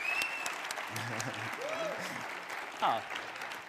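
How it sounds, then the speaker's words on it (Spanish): Applause from a conference audience, a continuous patter of clapping at fairly low level, with voices talking over it. "Un aplauso grande."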